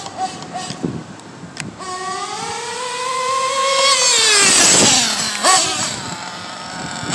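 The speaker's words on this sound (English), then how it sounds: "That's full throttle. Pinning it." A small Pico P3 motorbike engine being broken in is pinned at full throttle, a buzzy high-revving whine climbing and holding loud, then dropping sharply, with a few clicks and knocks around it.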